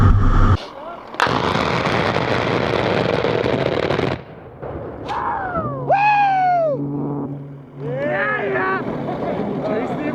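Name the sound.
A-10 Warthog gun run gunfire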